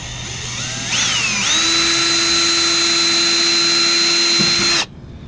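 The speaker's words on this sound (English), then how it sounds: "we're going to drill pilot holes" A power drill with an 1/8-inch bit drilling pilot holes on a 2019 Coachmen Freelander RV whirs up, then runs at a steady high-pitched whine for several seconds before cutting off abruptly, close and loud with no talking.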